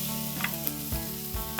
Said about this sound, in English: Listen to that sound. Got some good sizzle going on.